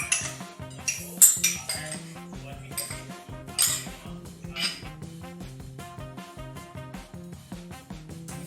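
Metal spoon clinks and scrapes against a bowl while chana chaat with potatoes and tomatoes is mixed, a steady run of close, irregular taps and scrapes with no talking.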